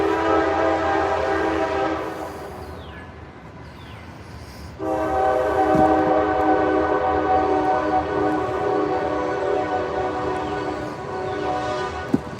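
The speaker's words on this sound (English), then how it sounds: "the train comes." A train passes beside a garden where red potatoes are being dug, its horn sounding in long sustained blasts, first loud, then fading, then rising again over steady rail rumble.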